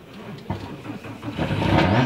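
A rally car engine at a championship start line cranks and catches again after stalling, rising from a rough, faltering turnover into a steadier growing roar, close and loud.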